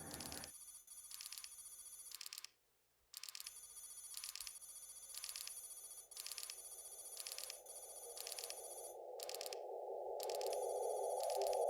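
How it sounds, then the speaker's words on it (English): Signal ringing in the video game Signal Simulator, a shrill electronic bell repeating in long, steady bursts with short pauses, while a low tone swells gradually underneath. "Yeah, okay, so that's the sound of the signal."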